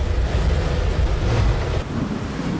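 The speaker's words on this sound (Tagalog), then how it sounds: "Malakas ang hampas ng hangin sa EDSA." Strong typhoon wind gusting along EDSA, a heavy roaring rush that buffets the microphone, steady and loud, easing slightly toward the end.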